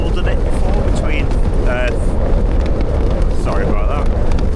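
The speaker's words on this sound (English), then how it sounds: "so very windy, but despite it being noisy and shaking" Strong wind of about 36 to 45 mph buffets a Nortent Varde 1 tent in a loud, constant low roar with gusting rumble, while a person talks intermittently over it.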